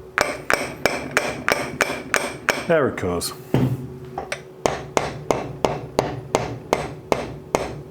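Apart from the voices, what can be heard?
tapping a metal casting with a hammer's wooden handle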